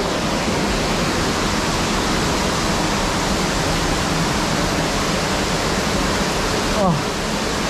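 Antong Falls rushing in a steady, dense roar of falling water heard close by, unbroken for the whole stretch.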